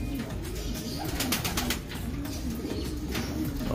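Pigeons coo steadily in low, throaty rolling calls, several birds overlapping close by with a constant background hiss.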